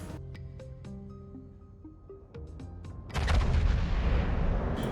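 Heavy naval gunfire from battleship guns in the World of Warships video game, a loud booming salvo that bursts in after a stretch of musical tones and rumbles on through the end.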